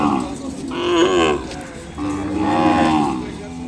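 Calves moo loudly and close at Kodad cattle market, two long drawn-out lows one after the other, over a busy background murmur.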